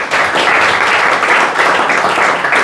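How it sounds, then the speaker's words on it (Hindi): Loud, dense audience applause at an institute gathering, steady clapping from a large crowd sustained throughout, close and filling the space with no speech over it. "एक बार हम सभी मिलकर मोदी जी के लिए जोरदार तालियां बजाएंगे।"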